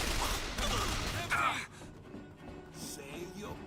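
Gunfire in the Bioshock Infinite video game, a dense burst of rapid shots at the start that stops abruptly, followed by quieter scattered sounds, with voices in the background.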